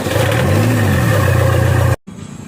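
A Toyota Fortuner's engine cranking and catching with a loud steady mid-pitched idle that rises briefly, then cuts off abruptly near the end, after Coca-Cola was poured into the intake.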